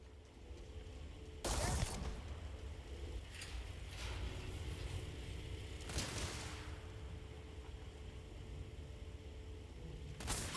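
Gunshots from the video game Starfield, with sharp broadband bursts near 1.5, 6 and 10.5 seconds over a steady in-game ambience hum, firing at a companion character.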